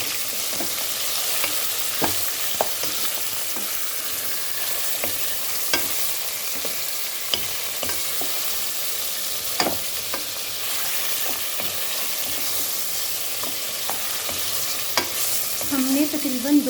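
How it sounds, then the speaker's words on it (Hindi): Pieces of mutton sizzle and fry in a masala base for arvi gosht, with a spoon scraping and stirring the pot in repeated clicks and knocks over a steady hiss, close up and without talk. "हमने तकरीबन 2 से 3 मिनट तक हमने इसको गोश्त को इस मसाले में हल्का सा भूनना है"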